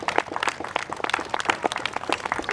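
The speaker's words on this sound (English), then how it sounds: "so a round of applause for them" An audience claps in steady applause at a fire district open house, a brief, dense patter of many hands heard at moderate distance.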